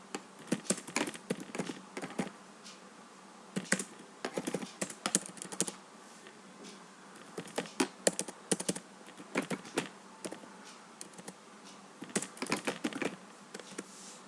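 Typing on a computer keyboard to write a chat message, quick irregular bursts of light key clicks close up, steady through the whole stretch with brief pauses.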